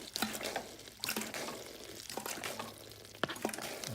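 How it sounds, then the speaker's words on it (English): Water gurgles and trickles through an aquarium siphon tube being moved through gravel during tank cleaning, a close, uneven wet bubbling with small splashes and clicks of the tube. "Okay, so water's flowing, and now you're gonna move this siphon tube around in the aggregate."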